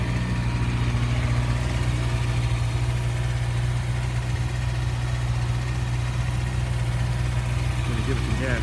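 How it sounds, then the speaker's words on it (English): A stock 2012 Kawasaki ZX-6R sport bike idles close by with a steady, even engine drone that holds at constant loudness, with no revving and no talk over it. "we're gonna start the bike and let you hear it now"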